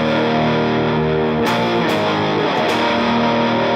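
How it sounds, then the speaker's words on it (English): Distorted electric guitar through a Helix modeler rings out big sustained chorus chords for a worship song, dense and loud with fresh strums near the middle and end, no voices. "we're back into the chorus with the big chords again."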